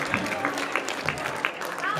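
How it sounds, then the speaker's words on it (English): An audience gives a scattered round of applause amid chatter and voices, with a few sharp claps standing out over the crowd noise. "Give them all a big round of applause."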